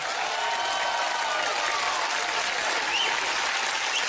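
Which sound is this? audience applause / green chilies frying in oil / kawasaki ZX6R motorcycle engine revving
audience applause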